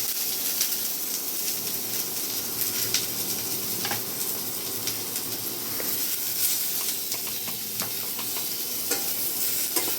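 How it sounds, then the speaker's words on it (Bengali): Chopped onion sizzles in a little oil with a dried red chili and nigella seeds, a steady close frying hiss with scattered crackles and occasional stirring scrapes throughout, no voices. "একটু ভেজে নেবো, বেশি না, হালকা করে, অল্প তেল দিয়েছি"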